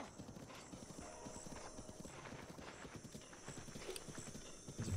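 Horse hooves clip-clopping at a steady trotting rhythm in The Legend of Zelda: Breath of the Wild, a quiet continuous patter of hoofbeats with light ambient game sound behind it.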